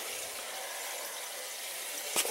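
Water feeding through a newly replaced tankless coil in a boiler, a steady broad hiss and rush of flowing water throughout, close and even, ending with a short sharper knock.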